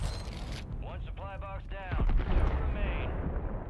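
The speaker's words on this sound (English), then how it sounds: "someone's got a grenade launcher on the roof?" Grenade launcher explosions fired from a rooftop in a shooter video game: a deep rumbling blast swells after someone briefly speaks, then lingers as a heavy low roar.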